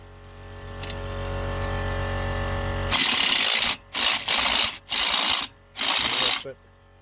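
Strut spring compressor being wound up from the back while changing the spring on a 2008 Toyota Mark X Zio: a low mechanical drone, then several loud, close bursts of rapid ratcheting separated by short pauses.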